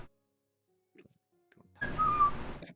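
A person whistles a short, bright melodic phrase in imitation of a bird, arriving near the end after a few faint soft sounds and near silence, during a tabletop role-playing game session.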